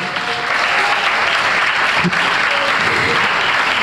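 A church congregation applauds loudly and continuously, a dense steady wash of clapping from a full crowd.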